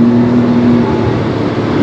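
A McLaren Artura in track mode accelerates with a loud, close, steady engine drone and a sustained tonal whine, heard alone without talk.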